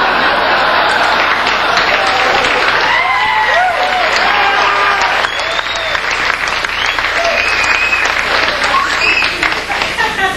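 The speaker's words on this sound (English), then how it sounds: "Are you clapping for me?" A comedy club crowd claps loudly and steadily, with scattered whoops and murmurs from the audience rising through the applause.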